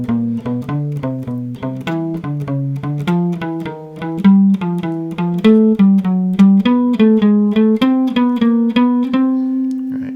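A jazz guitar runs through the first octave of a major scale with added non-diatonic passing notes, a steady stream of clean single plucked notes climbing in pitch, played alone and close.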